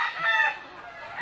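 A rooster crows once nearby, a strained drawn-out call that trails off into quiet.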